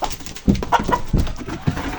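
Backyard chickens and a rooster, kept as pets in a small flock, cluck and call in a series of short, close bursts with no talk over them.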